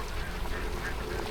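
Many ducks quacking together at a farm in Pampanga, a dense continuous outdoor chatter of overlapping quacks, moderately loud and close.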